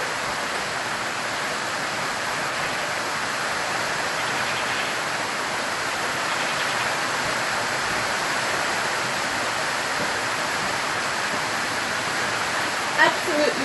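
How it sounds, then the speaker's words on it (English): Steady rain hisses evenly throughout, a dense broadband wash with no breaks, heard close and continuous. "listen to the rain."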